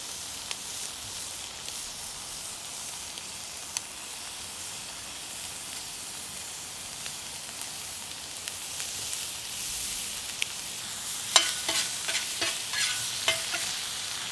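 Lobster meat and other meat frying in butter with garlic, ginger and cilantro in a pan, giving a steady, fairly quiet sizzle and hiss with a few light stirring clicks near the end.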